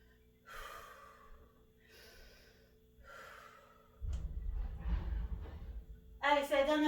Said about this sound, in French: Moi, vous voyez que je suis essoufflée